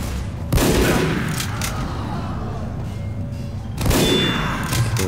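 Two heavy, booming shots in Team Fortress 2 about three seconds apart, each followed by a long ringing decay over dense, continuous game noise.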